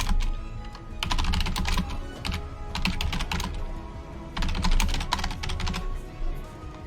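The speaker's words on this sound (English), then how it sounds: "So I'm going to type in that description." Steady typing on a computer keyboard during a game development stream, with quick clustered bursts of key clicks separated by short pauses, close and clear with no talking.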